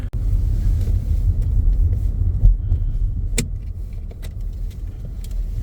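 A car climbing a snowy mountain road toward nearly 3,000 metres in sub-zero cold, heard from inside as a steady low engine and road rumble with a few faint rattles and clicks, no talk.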